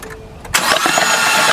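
A 2016 Ford F-150 with a 3.5 V6, dead and being brought back, cranks over: a quiet opening gives way to a sudden loud, steady starter-driven churning that holds for about a second, close to the mic.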